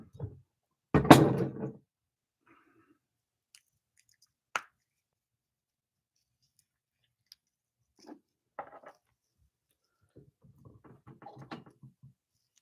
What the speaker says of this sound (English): and then I squeeze in half of a lime